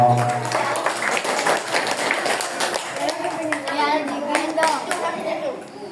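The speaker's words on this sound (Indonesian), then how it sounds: "Tepuk tangan dong." Children clap their hands at an Isra Mi'raj school event at an elementary school, giving scattered, lively applause mixed with chatter and children's voices throughout.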